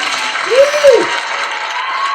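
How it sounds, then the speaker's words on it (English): A studio audience at a leadership talk show applauds and cheers as a guest walks on, steady clapping carried by a single rising-and-falling whoop near the middle, all fairly close and lively. "Crowd goes wild, Mark."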